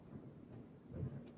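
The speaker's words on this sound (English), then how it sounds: "sorry about the thunder in the background." Distant thunder rumbling low in the background during a rainstorm, a soft steady roll that swells briefly near the end, with no talk.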